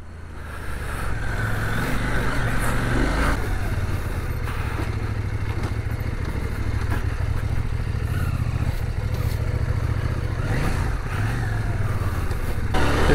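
A CF Moto 800MT adventure motorcycle rides over a rough, rocky off-road section, its engine droning steadily and loudly throughout with continuous rumble and road noise, no talking.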